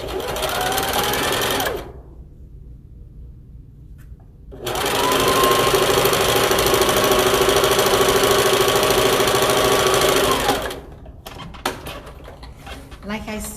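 A sewing machine stitches a lunch bag in two close, loud runs of fast mechanical whirring separated by a pause, with clicks and handling noise at the end.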